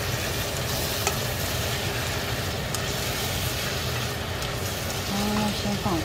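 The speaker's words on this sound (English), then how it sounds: "You need to stir. Just keep on stirring. Still on high temperature." Chinese spaghetti sauce frying over high heat while being stirred, a steady close sizzle with scraping stir strokes running throughout, a faint voice briefly underneath.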